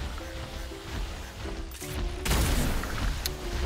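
In ARK: Aberration, a weapon fires with a sharp shot near the middle of the clip, followed by a loud burst of noise over a busy game soundscape with a steady electronic tone.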